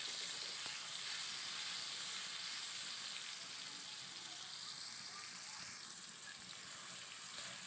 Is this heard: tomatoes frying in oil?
yes